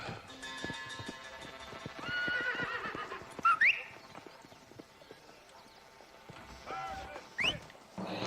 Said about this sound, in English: We can press the up button, and magically our horse comes to us.